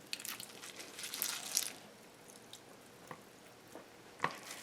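Washed bitter melon (karela) squeezed by hand in a kitchen, giving soft wet squishes and a few scattered drips and squelches, fairly quiet and with no talking.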